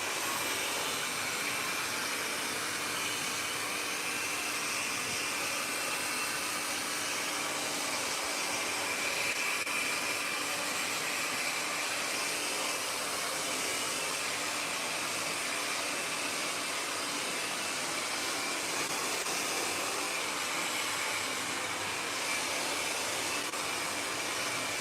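A handheld hair dryer blows on hair in a steady, unbroken airy roar that holds at an even level for about twenty-five seconds, with no voices over it.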